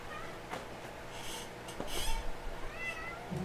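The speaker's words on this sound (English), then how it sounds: "Well, hi, kitty." A cat meows in the Persona 5 video game, a few short mews over quiet ambient game background, with no talking.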